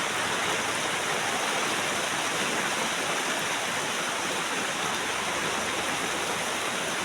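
Dense, steady hiss of heavy rain pours without a break over a small farm, a uniform wash of noise with no voices.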